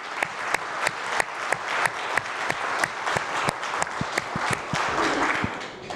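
Audience at a technology summit claps to welcome new members, a fairly close, dense round of applause with some sharp individual claps standing out, continuing without talk.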